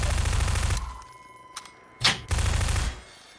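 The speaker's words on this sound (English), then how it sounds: "I got a submachine gun while you were gone." Submachine gun fire in Half-Life 2, two loud close bursts of rapid automatic shots separated by a short lull with a few clicks and a swooping effect.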